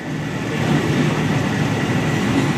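Thai commuter train on the Maeklong railway line, a steady loud rumbling roar from on board with faint rhythmic clatter underneath.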